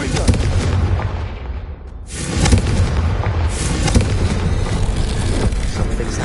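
Confringo fire blast spell from Hogwarts Legacy, loud booming explosions bursting over a dense layer of game effects, with a short lull before a second heavy blast and a sustained rumbling tail.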